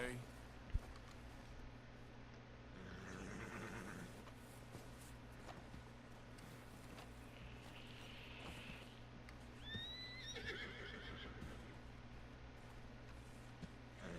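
A horse in the video game Red Dead Redemption 2 whinnies and neighs twice over a steady background hum, with soft hoof and movement noises, moderately close.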